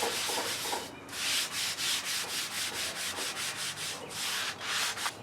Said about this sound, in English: throw down a little bit of kosher salt, and then just take the scrubby end and just kind of scrub over it